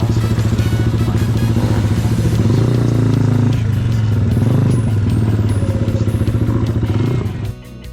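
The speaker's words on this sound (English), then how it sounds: "The Cafe Racer Custom GPX Legend Gentleman 200 is truly a joy to ride." GPX Legend Gentleman 200 cafe racer motorcycle being ridden through Bangkok, a steady loud engine drone with rhythmic clatter throughout, easing off near the end.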